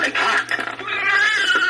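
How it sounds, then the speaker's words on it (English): A cat meows close by in a home, giving a drawn-out, wavering cry that briefly breaks up and then carries on as a long, loud call. "Listen to the cat."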